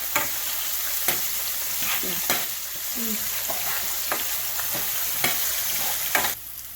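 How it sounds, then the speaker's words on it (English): Onions and capsicum sauté in a pan for chicken Manchurian, a continuous sizzle punctuated by repeated sharp scrapes and taps of a spatula stirring at irregular intervals, without speech. "So you don't need to fully cook this. Half cook is fine for the Manchurian. Just saute it well."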